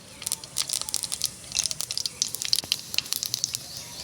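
About a spoonful of cumin seeds hit hot oil in a wok for a Bengali fish curry, giving a quick run of sharp crackles and pops over a soft sizzle, close and lively.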